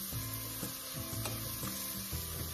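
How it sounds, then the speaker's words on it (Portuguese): Onion fries in a pan for potato cream, giving a soft continuous sizzle with recurring stirring scrapes at a steady rhythm, close but fairly quiet, no voices. "Esperar a cebola dar uma douradinha"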